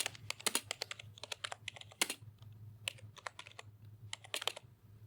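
Typing on a computer keyboard while filling in account details, with bursts of quick key clicks separated by short pauses, close and fairly quiet over a low steady hum.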